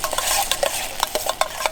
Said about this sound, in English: I already hear the stuff sizzling in here.